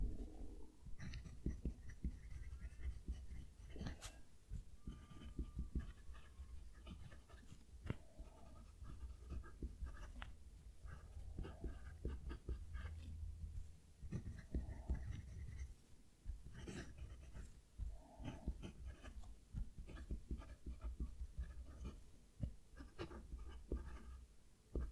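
Conklin All-American fountain pen nib scratching across paper in close, quiet strokes, with irregular bursts of scribbling and brief pauses between words.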